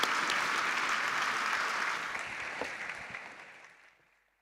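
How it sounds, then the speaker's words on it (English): Audience applause in a hall at a business conference, a full, sustained crowd ovation that holds steady before gradually fading away to silence at the end. "perhaps a final round of applause to acknowledge his extraordinary work"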